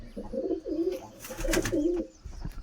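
Pigeons coo nearby in two soft, throaty phrases, with a brief rustle or flutter between them.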